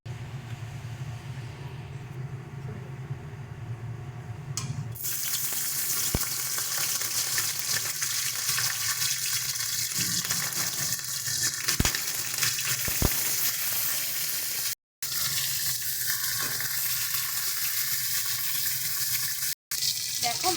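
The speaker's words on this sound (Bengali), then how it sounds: "কড়াইটা গরম হয়ে গেছে এবার মাছের মাথাটা ভেজে নেব" Hilsa fish head frying in hot oil in a wok, a steady crackling sizzle that swells after a quieter start and runs continuously at close range with no talk.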